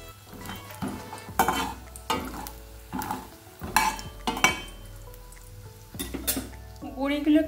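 Bori lentil dumplings fry in hot mustard oil in a wok, with a spatula stirring them in quiet, separate bursts of scraping and sizzling and short pauses in between.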